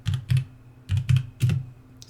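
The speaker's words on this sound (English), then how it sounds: "so I'm going to type in intricate" Typing on a computer keyboard in short bursts of clustered key clicks, three quick groups with brief pauses between, close and clear with no talk.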